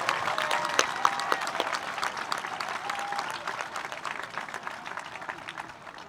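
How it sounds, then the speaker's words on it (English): A crowd applauds 8th grade graduates at a middle school graduation ceremony, a steady, fairly loud roar of clapping with a few distinct claps early on, gradually fading. "Let's get one last big round of applause for all of our 8th grade graduates today."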